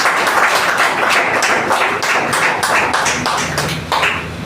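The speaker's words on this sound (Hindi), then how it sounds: "शानदार तालियां होनी चाहिए डॉक्टर सत्यम गुप्ता सर के जोरदार" Audience clapping continuously and loudly, a dense patter of many hands that holds steady through to the end, with no voices over it.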